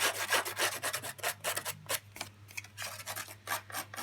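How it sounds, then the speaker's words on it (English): Rapid rough rasping strokes of a paper card's edge being distressed, repeating in quick uneven bursts over a low steady hum. "Now I want to distress the edge of this now"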